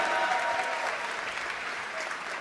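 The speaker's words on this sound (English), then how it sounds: "Applaudissements une dernière fois, s'il vous plaît, pour cette équipe des Faze." Sustained audience applause for the FaZe esports team at the CoD ESWC CWL Paris 2017 grand final, a dense steady clapping from a large crowd lasting throughout.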